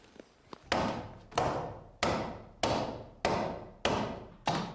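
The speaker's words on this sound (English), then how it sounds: "He is using a traditional axe to hew the shape out, which takes great skill." A traditional axe hews a heavy, tar-rich piece of pine to shape skis, with about seven loud, evenly spaced chopping thuds, each ringing out briefly, after a few lighter taps.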